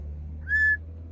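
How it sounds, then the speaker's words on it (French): A single short, clear note whistled by a child rises out of a quiet room hum, lasting under half a second. "Voilà comment elle siffle."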